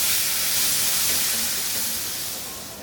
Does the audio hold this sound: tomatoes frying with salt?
yes